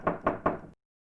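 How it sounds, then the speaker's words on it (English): Three quick knocks on a door during a live Hansel and Gretel puppet show, evenly spaced and fairly loud, ending in silence. "Knock on the door."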